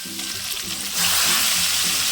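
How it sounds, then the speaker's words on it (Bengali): Whole panch phoron spices hitting hot mustard oil for a raw mango pickle, giving a steady close sizzle that swells louder and denser midway, with faint low background hum and no talk. "সরষের তেল যখন গরম হয়ে যাবে তখন তেলের মধ্যে গোটা পাঁচফোড়ন দিয়ে দেবো"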